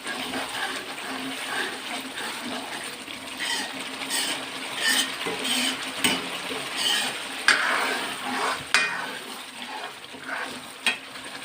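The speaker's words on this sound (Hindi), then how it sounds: "अब हम इसमें डालते हैं पानी।" Egg curry masala sizzles and crackles steadily in a hot pan, with bursts of louder hissing and a few sharp pops as water is poured in.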